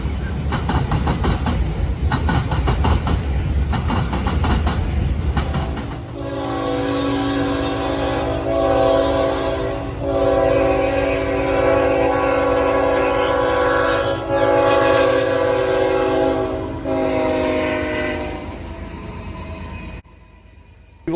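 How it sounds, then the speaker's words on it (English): A freight train rumbles and clatters past close by, then its horn sounds a long sustained chord with brief breaks for several seconds over the rolling noise before cutting off. "we're going to see all kinds of different freight trains"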